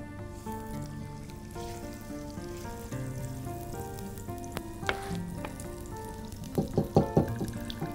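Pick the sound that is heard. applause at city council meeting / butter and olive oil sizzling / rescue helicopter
butter and olive oil sizzling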